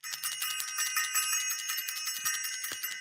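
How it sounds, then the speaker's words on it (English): A bright metallic bell rings continuously in rapid repeated strikes, loud and close, with brief low knocks underneath. "I want to ring the bell"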